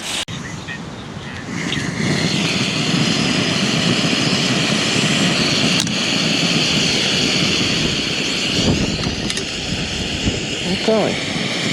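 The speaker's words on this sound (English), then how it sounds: "fire up the jet boil" A Jetboil camping stove lit outdoors on a bench beside a play area, giving a steady, fairly loud roaring hiss that holds from start to finish, with a few faint clicks and knocks around it.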